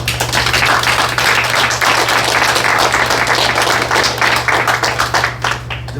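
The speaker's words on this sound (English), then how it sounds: "So I'd like to give them a round of applause." Audience at a public event on racial discrimination gives a sustained round of applause, loud and close, a thick continuous patter of many hands with no speech.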